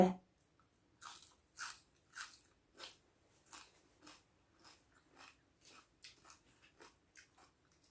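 Someone chews bull testicles up close in a quiet room. About fifteen crisp, crunchy bites and chews come in a steady rhythm, with short pauses between them.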